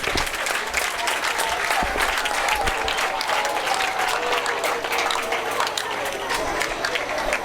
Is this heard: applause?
yes